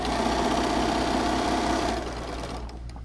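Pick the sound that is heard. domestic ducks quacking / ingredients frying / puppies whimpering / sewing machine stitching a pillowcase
sewing machine stitching a pillowcase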